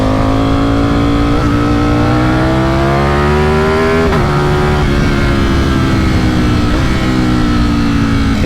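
A Ducati Streetfighter V4S motorcycle accelerating hard on a cold mountain road, loud close engine roar rising in pitch through several gear changes, with brief drops between shifts and no talking.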